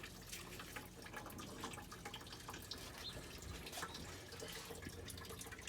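Coolant draining from a Chevrolet Suburban radiator during a radiator replacement, a faint, steady trickle of liquid with scattered drips, no talking.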